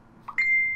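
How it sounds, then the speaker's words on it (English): A phone notification chime, a single short clear tone that rings out and fades over under a second, heard alone against a quiet background. "That was my phone. It's probably going to go off again."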